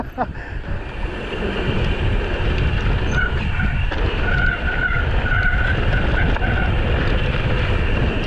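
Bicycle brakes skidding during a group ride in Gimpo: a loud, continuous rough rush of tyre scrub with a squealing brake tone rising through the middle of the stretch.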